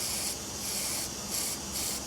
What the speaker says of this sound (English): I'll spray in here.